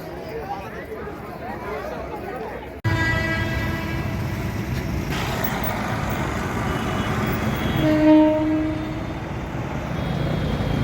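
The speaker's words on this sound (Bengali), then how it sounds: "দেখুন, বর্ধমান কোয়ার্ডের ট্রেন যাচ্ছে" A Bardhaman chord line train rumbles past at close range at Bally station, with a horn sounding briefly near the end, while voices talk over the noise.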